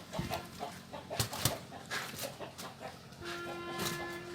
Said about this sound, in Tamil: இப்போ கோழி எல்லாம் அணைச்சிக்குது.